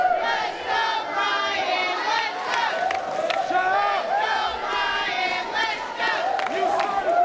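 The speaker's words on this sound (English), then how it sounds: "Crowd trying to rally behind Brian Pillman Jr. here" A wrestling crowd at a CCW show chants and yells in unison to rally behind Brian Pillman Jr., rhythmic massed voices and cheers rising and falling in repeated waves, loud and continuous throughout.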